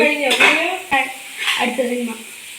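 Chicken being stirred in a pan for a Kerala-style chicken thoran, with a few sharp metal spoon scrapes and clinks against the pan over a light sizzle, close by.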